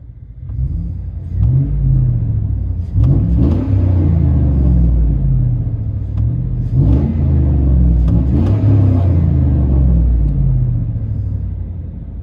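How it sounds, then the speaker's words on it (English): A 2004 GMC Sierra 4.8L V8 with true dual exhaust, X pipe and straight pipes, heard from inside the cab: deep rumble with two rising revs, loud and steady with no talk. "True duals with an X pipe, 4-inch tips. Let you guys hear on the inside."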